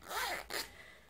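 A zipper on a hand-knitted raglan jacket is pulled in two quick close strokes, a short rasping zip followed by a second briefer one, loud and up close with no talking.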